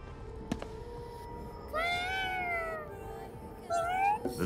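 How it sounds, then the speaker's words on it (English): A cat meows twice in the video game Ghostwire: Tokyo, one drawn-out call and a shorter one, clear over a low ambient game background with a soft click near the start. "Is that a cat?"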